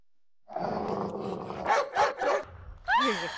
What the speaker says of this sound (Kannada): ಇದು ಜಿಮ್ಮಿ ಅಲ್ಲ, ನಾಯಿ.